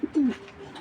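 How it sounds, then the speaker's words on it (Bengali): A racing pigeon, a white grizzle from a BRPO club loft, gives a brief soft coo close by, two short throaty notes that fade within a second. "এটা হলো বিআরপিও ক্লাবের কবুতর"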